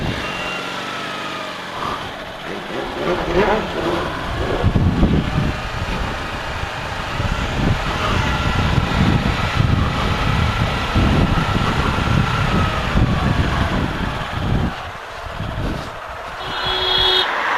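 Yamaha R25 or R6 sport motorcycle being ridden on an open road, its exhaust a steady, fairly quiet drone with wind noise that swells and eases over a long stretch, with no voices.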